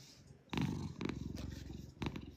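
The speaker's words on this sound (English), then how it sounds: "your buddy is purring again." A cat purrs close by in a steady rhythmic rumble, with louder bursts of purring and breathy textures layered over a softer continuous drone.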